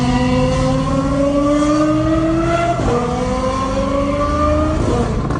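A V10 sports car revs hard and steadily through a titanium exhaust with equal-length headers, pitch climbing in two long sweeps with a brief gear-change dip between them; loud, close, with no voices.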